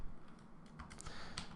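Close, quiet typing on a computer keyboard: a quick, uneven run of soft key clicks over a low background hum, with no voices.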